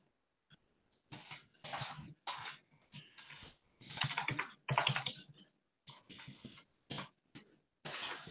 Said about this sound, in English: you can't see me typing or copying and pasting as I am in this case